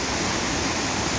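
A waterfall at Las Brisas in San Miguel del Puerto, Oaxaca, Mexico, near a cave beneath the falls, roars as a steady, dense, loud rush of falling water with no voices.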